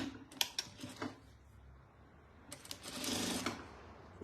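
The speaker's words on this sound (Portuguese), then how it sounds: "eu coloco aqui uma costurinha de segurança" Sewing machine running a short securing seam on fabric for a practical fabric wallet, with short clicky bursts early and then a longer steady stitching run, fairly faint and close.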